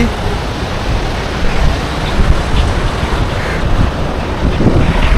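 The Beas river near Manali surges beneath a metal footbridge, heard from above as a loud, continuous rushing roar mixed with heavy wind buffeting the microphone.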